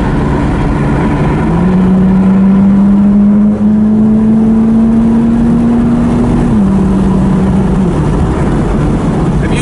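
A McLaren 12C Spider with Gemballa modifications drives along at moderate pace, its engine holding a steady droning hum that rises slowly in pitch before dropping as it shifts, loud and close with constant road roar underneath.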